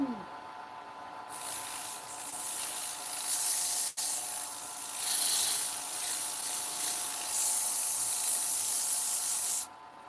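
A power sander runs at about 1,000 RPM, a loud steady hissing rub that starts after a second, stutters briefly once, then holds before cutting off near the end.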